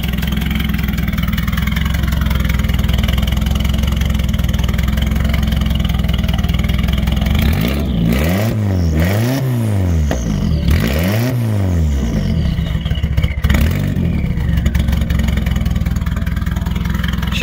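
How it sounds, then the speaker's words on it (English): A Nissan Silvia with an FJ20ET engine and an exhaust leak idles steadily and low, then is revved sharply three times in quick swells before settling back to a rough idle, loud and close. "Sounds so much better when all of the exhaust is coming out of there"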